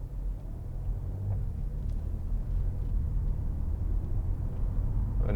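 An Audi S4 Avant with a 3.0 TFSI V6 and S tronic gearbox, showing 89,715 miles, cruising with its engine at a low, steady hum under broad road rumble, the car barely working.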